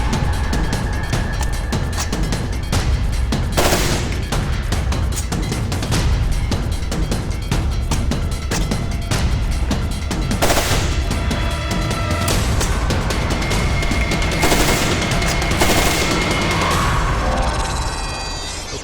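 Rapid sustained automatic gunfire from an M249 SAW and an M27 on a range, loud and dense continuous bursts with brief pauses for reloads, lasting throughout.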